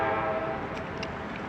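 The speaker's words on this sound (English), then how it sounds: "That's where the train's coming from." A train approaches from a railway bridge over a river in downtown Waterloo, Iowa, its sustained horn tone fading a little over a moment, with no talk.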